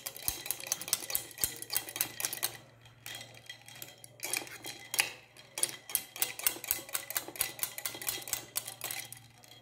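A spoon stirs a milk sherbet drink with sabja and chia seeds in a glass, making quick, rhythmic light clinks and taps in bursts with short pauses, faint and close.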